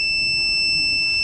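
Touchless fog-disinfection hand-washing machine (HVS-3041) buzzer sounds as a steady, piercing electronic tone held alone for the whole moment, with faint room hum underneath.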